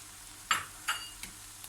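Egg poured into a pan of sautéed dried green beans, a few short sizzling bursts spaced about half a second apart, fairly faint against a quiet background.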